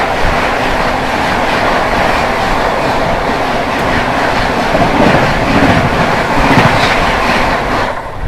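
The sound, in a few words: New Delhi–Bhubaneswar Tejas Rajdhani Express train passing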